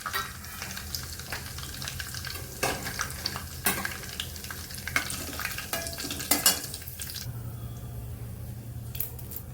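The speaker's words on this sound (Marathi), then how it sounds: "आता जिरं घालणार आहे. तेल तापलेलं आहे आपलं. खडे मसाले घालणार आहे." Cardamom, cloves, cinnamon pieces and cumin sizzle in hot oil for a methi malai matar gravy, a steady crackling hiss broken by sharp pops and clinks of stirring, close and moderately loud with no voices.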